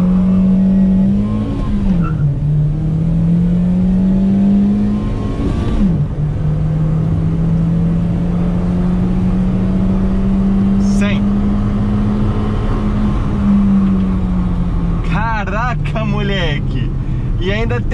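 A Volkswagen Gol G4 1.0 accelerates hard, its engine climbing through the revs with brief dips at gear changes, loud and close from inside the car. Bursts of excited talk sit over the engine sound.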